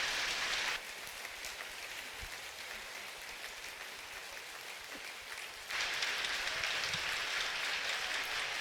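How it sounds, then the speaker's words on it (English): A steady wash of applause from an audience at Buddhist Lamdre teachings, swelling louder at the start and again near the end. "So the applause"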